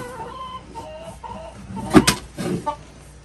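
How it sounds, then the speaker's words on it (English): Chickens in Alaska clucking: a few short, loud bursts of squawking near the middle of the clip, close by, over a quiet background. "Chickens are sliding down."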